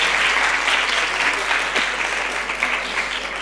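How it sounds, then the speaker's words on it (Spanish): Audience applause at a talk on mobile apps for cooperative work, a full, sustained burst of clapping that gently tapers toward the end. "Me sumo, evidentemente, a los aplausos."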